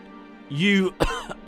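A storyteller's voice imitates a coughing fit: a strained, throaty rasp followed by two or three sharp, close coughs in quick succession.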